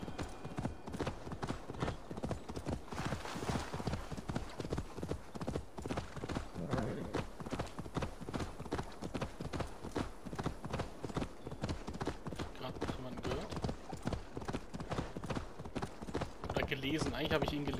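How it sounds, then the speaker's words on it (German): Steady rhythmic clip-clop of horse hooves at a brisk trot in the video game Assassin's Creed Valhalla, continuous and fairly close, with someone talking intermittently over it. "Hey ho, Silver, schwing die Hufe!"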